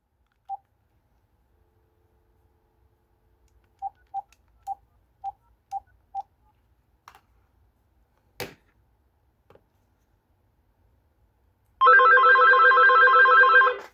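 A Casio Phonemate telephone ringer warbles loudly and alone in one sustained electronic burst, following a string of short, evenly spaced dialing tones and a few soft clicks.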